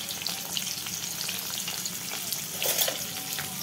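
An egg frying in a pan in a home kitchen, a soft continuous crackling sizzle heard close but fairly quiet, swelling briefly near the end, with no voices.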